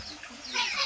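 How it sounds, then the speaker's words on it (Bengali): A local farm hen gives a brief, soft cluck, one short call heard close by against quiet farmyard background. "এই যে একটা লোকাল মুরগি"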